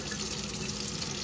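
Running water rinses an old, dirt-caked abandoned beehive, a steady close hiss of spray and splashing with no pauses.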